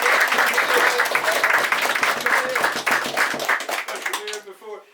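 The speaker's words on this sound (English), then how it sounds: "a wee clap, a quick clap for him." A room of people at a Halloween book launch claps, many hands in dense rapid applause that thins into scattered claps and fades, with voices and laughter rising near the end.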